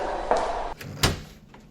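A wooden cottage door bangs open in a storybook sound effect, with a creaking rush followed by a sharp, heavy thud and fading resonance, close and loud against a steady low background hum.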